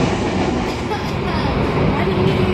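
A moving passenger train in Indonesia gives a continuous loud rumble and rattle of wheels and carriages, with a steady roar throughout and no breaks.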